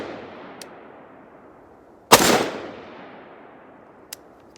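A single sharp, loud rifle shot cracks midway at an outdoor range and decays quickly, with only faint small clicks before and after and no clear ringing from a steel target.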